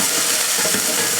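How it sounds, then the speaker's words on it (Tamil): Shallots, garlic and ginger sautéing in oil in the pan left from cooking mutton, a loud, dense, continuous hiss and sizzle heard up close without any voices. "அதே பாத்திரத்தில் மறுபடியும் ஒரு 2 ஸ்பூன் அளவுக்கு எண்ணெய் சேர்த்துக்கலாம்."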